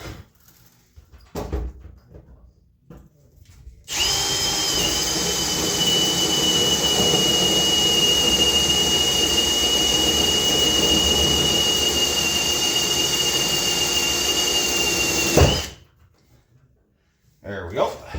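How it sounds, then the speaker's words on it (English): A power drill bores a hole through the cab roof of a second-generation Dodge truck, giving a steady loud whine that starts abruptly, runs for about twelve seconds, and cuts off sharply, with faint handling noises before and after. "drilling a hole, we're pretty much lined up underneath"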